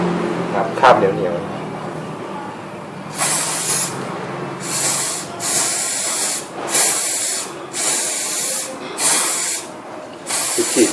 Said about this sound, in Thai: จะล้างโซ่แล้วครับจะฉีดลงไปเลย